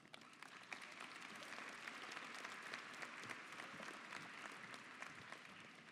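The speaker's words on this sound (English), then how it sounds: "with a round of applause" Sustained applause from a large audience at a 2017 high school graduation ceremony, a dense, even wash of clapping that holds steady for the whole stretch with no voices on top.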